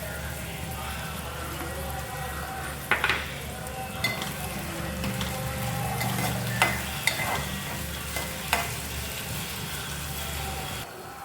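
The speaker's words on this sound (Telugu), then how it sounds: "ఇలాగే ఫ్రై చేసుకుంటే చక్కగా ఫ్రై అయిపోద్ది ఉల్లిపాయ" Onions and green chillies frying in a pan for chicken fry, a continuous sizzle with intermittent clanks and scrapes of stirring, nearby and fairly even throughout.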